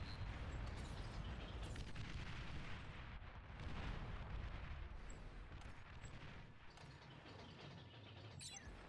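Missile launches and explosions in a real-time strategy video game, a dense continuous barrage of booms and rumbling blasts at steady loud level throughout, with occasional whooshing launch streaks.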